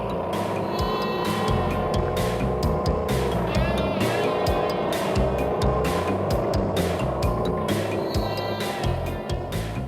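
A Mazda car engine revs hard and climbs through the gears during an acceleration test, loud and close, with tire noise and a steady roar throughout.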